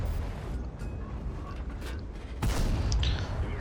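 A heavy tank cannon blast in a video game booms out midway through, loud and close, over a continuous low engine rumble, with no talking.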